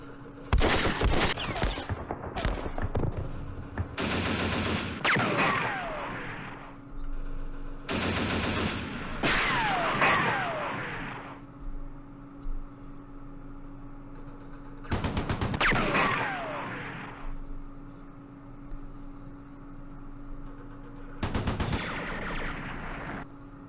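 Gunfire in the war game Campaign Series Middle East: repeated bursts of rapid, crackling shots and booming impacts arrive in clusters every few seconds, each followed by a falling, whistling decay, over a steady low hum.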